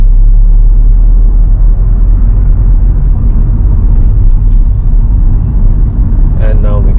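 A car in second gear on a West Didsbury road accelerates steadily, its engine rumble loud and close throughout, ready to shift into third.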